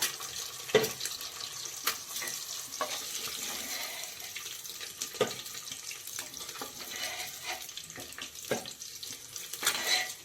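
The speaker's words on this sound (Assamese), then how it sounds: "এই আন্দা 4টা মই ফ্ৰাই কৰি ল'ম ৰঙচুৱাকৈ অকণমান।" Four eggs fry in oil in a pan for egg biryani with a steady, soft sizzle, broken by occasional sharp taps and clatters of a utensil against the pan.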